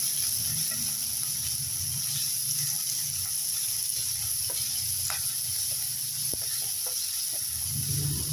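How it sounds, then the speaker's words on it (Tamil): Curry leaves and coriander sauté in hot oil for a brinjal and drumstick sambar, producing a constant bright hiss with faint crackles and occasional soft stirring, with no voices. "போட்டு எண்ணெயிலே இது நல்லா வதக்கணும்."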